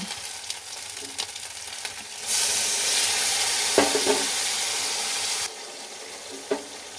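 Spices with onion and garlic fry in a pan for a Bengali fish curry. A loud, steady sizzle swells up for about three seconds and then cuts off, with quieter clinks and stirring knocks before and after.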